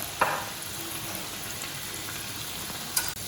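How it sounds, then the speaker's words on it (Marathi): Onion pakoda bhaji frying in oil over a medium flame, a steady close crackling sizzle with two brief louder pops near the start and end, no voices. "आपण गॅस मीडियम घेऊ आणि व्यवस्थित तळून घेऊ"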